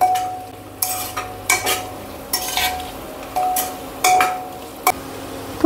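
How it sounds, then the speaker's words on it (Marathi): Cauliflower, carrot and green chili pieces are sautéed in a pan or pressure cooker with a steady sizzle, broken by repeated scraping and clinking strokes of a metal spoon. "आता याच्यात घालते फ्लावरचे तुकडे आणि गाजरचे तुकडे आणि हिरवी मिरची याच्यात घालते. ती छान परतून घेऊया."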